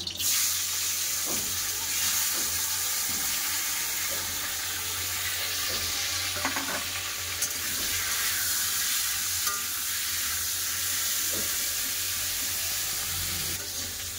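Crabs fry in hot mustard oil in a wok with a steady, dense sizzle, close and even, and scattered stirring knocks throughout, with no talking.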